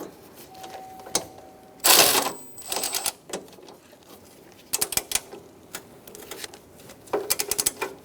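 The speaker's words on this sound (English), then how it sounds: "you're going to find a bolt that you got to take out with a 10mm socket" A ratchet with a 10mm socket turns out a bolt from under a bracket while replacing the front bumper impact absorber on a 2012-2018 Ford Focus, giving irregular bursts of quick metallic clicking, close and fairly loud.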